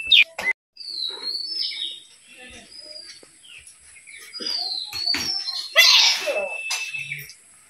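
Small birds chirp and tweet in short bright calls scattered through a quiet home setting, with a louder burst of calling near the end and occasional faint voices in the background.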